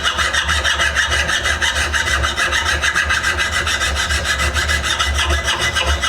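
Hand file rasping across the jaws of a small mini vise to knock off burrs, a steady run of rhythmic, gritty back-and-forth strokes up close with no talking.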